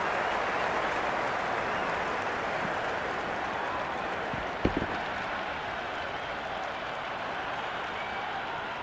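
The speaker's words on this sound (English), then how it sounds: "There's a buzz, a real buzz coming from the stands." A stadium crowd in the Cricket 26 video game, during a T10 Pakistan versus New Zealand match, keeps up a steady, dense roar of cheering and applause. It carries a brief louder spike midway.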